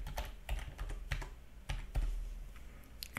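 Keys clack at an irregular, steady pace on a laptop computer keyboard as a password is typed, close and moderately quiet with no voices.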